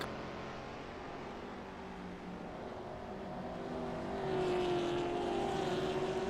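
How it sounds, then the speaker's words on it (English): Race car engines drone steadily in the distance at Oran Park circuit, one engine note rising to a higher whine as a car speeds past. No one speaks. "let's just enjoy the sounds of these cars as they go around Oran Park"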